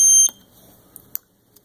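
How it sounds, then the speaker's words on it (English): A small electronic buzzer in a Lego house doorbell circuit sounds one short, shrill high-pitched tone, close and loud, then cuts off to near silence with faint clicks. "There's our buzzer, there's our battery,"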